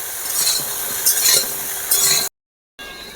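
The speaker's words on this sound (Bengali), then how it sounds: "2 মিনিট ধরে এভাবে কপিগুলো আমি ভেজে নেব।" Cauliflower with salt fries in hot oil in a wok, a close steady sizzle with intermittent stirring scrapes and metallic clinks, cut by a brief silent gap before the frying resumes, with no talking.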